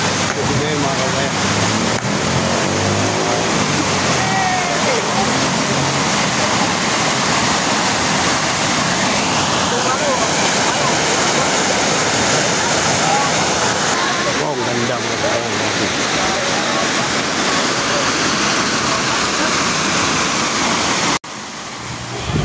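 Natural spring water rushes and roars loudly and continuously at Sinungkulan, a dense steady wash of flowing water with people talking under it.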